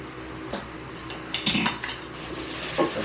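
Dishes, pots, pans and cutlery clink and clatter in a few separate bursts during washing, close and fairly quiet, with no talking.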